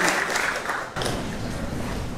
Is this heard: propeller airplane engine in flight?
no